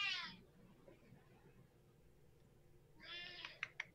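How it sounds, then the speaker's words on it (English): A house cat meows loudly and close by, one drawn-out meow, then a pause of low background, then another meow ending in short sharp chirps. "That cat agrees."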